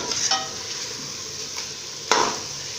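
Ojhari (tripe) is stir-fried in a pressure cooker pot, with a constant sizzle and two or three louder scraping stirs of the spoon, heard up close.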